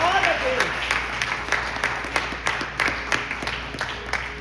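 A church congregation applauding loudly in praise during a service, steady crowd clapping filling the room, with sharp individual claps standing out over the wash of hands.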